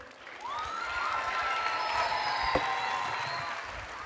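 An audience at a Latino youth conference claps steadily, a moderate, sustained wash of applause with a few faint cheers carrying through.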